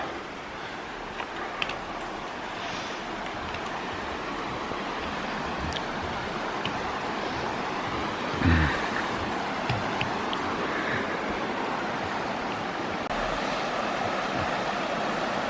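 A small stream trickles and rushes steadily beside the Alum Cave Trail, a continuous close-up flow with a few faint knocks and footsteps.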